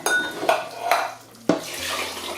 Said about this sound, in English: So I'm just going to put a little bit of water in there